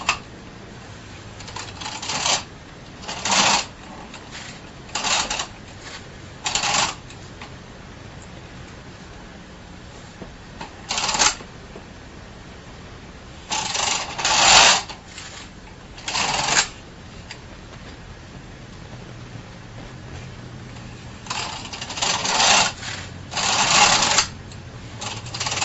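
BOND knitting machine carriage sliding across rows of blue and white yarn, a series of short whooshing clatters in irregular passes, some quick pairs and some lone strokes, close and clear.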